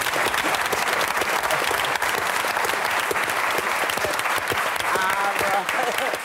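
A talk show studio audience applauds steadily, dense and sustained clapping that stays loud and even throughout.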